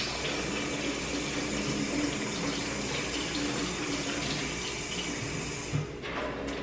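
A kitchen or bathroom tap runs steadily while hands are washed beneath it, a continuous close splashing wash of water that cuts off near the end.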